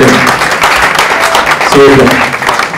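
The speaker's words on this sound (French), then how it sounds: "On peut applaudir pour les jeunes parlementaires" Audience applause for young parliamentarians at an oratory competition training event in Gabon, dense clapping throughout with some voices mixed in under it.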